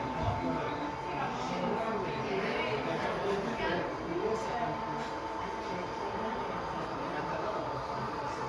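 A steady rumbling rattle of an HO scale model train running along its track, continuous and even, with a faint high whine over it.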